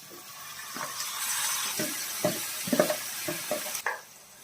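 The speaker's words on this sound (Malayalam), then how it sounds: "ഞാൻ ഇതിങ്ങനെ കുറേശ്ശെ കുറേശ്ശെ ഇങ്ങനെ ഇളക്കി" Beef sizzling in a pan while being stirred, with intermittent scraping and clinking strokes over a soft frying hiss.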